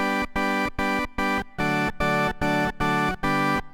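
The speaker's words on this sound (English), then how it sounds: "I've got just the FM organ engine running there and a little bit of reverb" Bright electric organ chords from the FM organ engine of a Yamaha stage keyboard play in a steady, detached rhythm, each stab ringing briefly with a light reverb tail.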